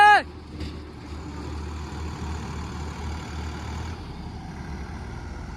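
A heavy diesel tractor engine runs at a steady, loud drone throughout while pulling a heavy loaded trailer, with a brief higher whine at the start as it revs up.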